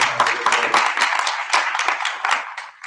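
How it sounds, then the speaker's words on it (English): A modest crowd at a small-business gathering claps for the mayor, a brisk scattered patter of individual hand claps at moderate distance that thins and fades out near the end. "Just a round of applause for the mayor"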